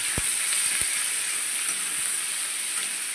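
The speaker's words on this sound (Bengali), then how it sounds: "পেঁয়াজটা একটু ভাজা ভাজা হয়ে গেলেই, একটু নরম নরম হয়ে গেলেই" Sliced onions fry gently in a pan for chilli chicken, giving a steady, even sizzle with a couple of faint clicks near the start and no talking.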